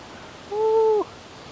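A single owl hoot, one clear hollow tonal call lasting about half a second, stands out alone against a faint, steady outdoor background.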